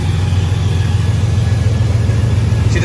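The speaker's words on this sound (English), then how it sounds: "She doesn't sound like she's idling rough or nothing. Idle sounds good." A Chevrolet Silverado truck engine idles smoothly and steadily close by, a loud, even low rumble with no revving and no talk.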